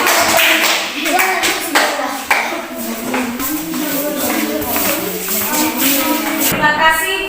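A classroom audience applauds a group of students after their presentation, with steady clapping running throughout, loud and close, mixed with a few voices and cheers.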